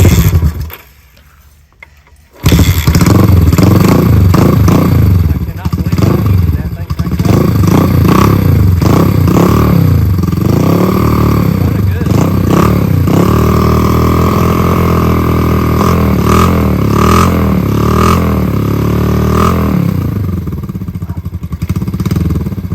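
A Honda CL350 motorcycle engine is cranked and catches, then runs loud and close for about twenty seconds with a rough, uneven idle and changing throttle, alone without talking.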